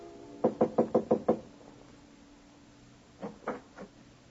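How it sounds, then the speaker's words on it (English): Knuckles rap on a panel door in a hallway: a quick run of six sharp knocks, a pause, then three slower knocks, close and clear in a quiet setting. "Rap on the panel door."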